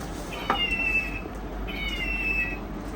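A large toy cat lets out two drawn-out electronic meows in succession, each a steady synthetic tone lasting under a second, close and clear over a faint background hum.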